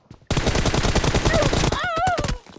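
A burst of rapid automatic gunfire from the mobile shooter game PUBG Mobile: a dense, loud string of evenly spaced shots that lasts about two seconds and ends in a short whooshing tail.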